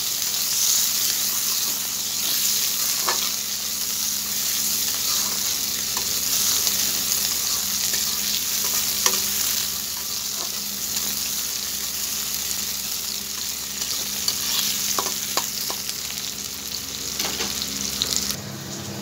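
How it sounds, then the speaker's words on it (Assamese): Chopped onions fry in oil in a pan with a continuous, even sizzle lasting throughout. A few faint scrapes of stirring sit underneath. Close and steady, with no voices. "এতিয়া পিয়াজখিনি অলপমান ৰঙচুৱা কৰি ফ্ৰাই কৰি লম"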